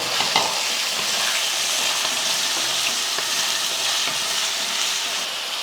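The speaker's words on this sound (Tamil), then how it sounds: "சேர்த்துட்டு வதக்கி விட்ருவோம்." Drumstick and potato pieces sauté in a hot pan for a Sunday-lunch sambar, giving a dense, even sizzle that holds steady throughout with faint stirring, and no voices.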